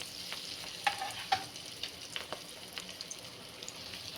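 Potato cutlets fry in hot oil over a medium flame, giving a soft, steady sizzle with scattered sharp crackles and pops, close and fairly quiet.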